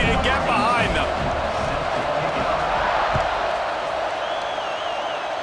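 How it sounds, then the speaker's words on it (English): Stadium crowd in EA Sports College Football 26, a dense, steady roar of many voices at a kickoff, with whistles and whoops rising briefly over the constant wash, under a commentator's voice. "this crowd now ready to get behind them"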